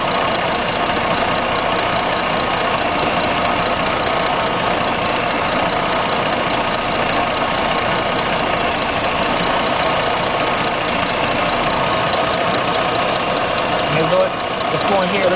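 A 2006 Jeep Grand Cherokee Laredo 3.7 engine running with a cylinder 3 misfire, a steady loud close mechanical drone with fine rapid ticking and rattling throughout, no break in the sound.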